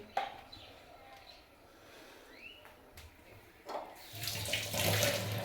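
A kitchen tap runs while fish is rinsed, the water swelling into a steady, louder gush near the end after quieter trickling and a few clinks.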